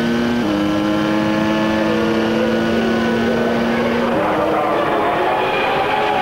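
A 1993 Renault V10 engine in a Formula 1 car, running steady and high-pitched on a lap, heard with a sustained tonal drone that shifts pitch partway through, with broad mechanical noise throughout.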